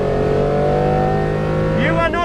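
An early-1990s Honda Beat kei car with a 660cc naturally aspirated engine that revs near 9,000 RPM drones steadily and loudly from inside the cabin, with a brief voice-like sound near the end.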